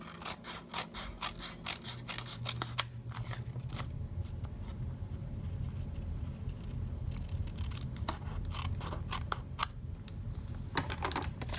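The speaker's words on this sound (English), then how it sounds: "and then just trim around the edges" Scissors trim around the edges of a paper card, giving a run of close, crisp snips and clicks in irregular bursts, with a soft rustle of paper between the cuts.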